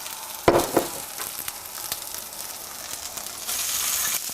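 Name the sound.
breadcrumbs browning in oil in a skillet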